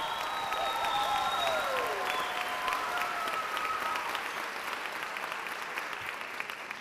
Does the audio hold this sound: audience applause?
yes